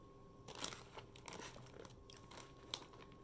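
Close, dry crunching of small crisp kruidnoten spice cookies being bitten and chewed, a few sharp crackles scattered over quiet moments.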